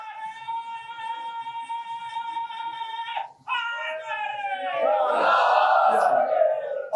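A crowd at an Arbaeen religious procession in Bisauna Sadat, Allahabad, chants slogans in long, sustained unison calls, broken by a short pause, then swelling into a louder, rougher mass of voices.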